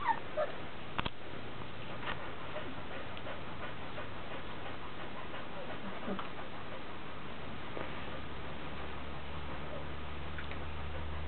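Young puppies play and whimper close by, with soft high whines, yips and panting over a low, steady background hum, and occasional small knocks.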